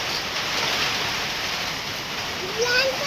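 Steady, heavy rain hisses throughout, loud and constant, with a brief voice rising near the end.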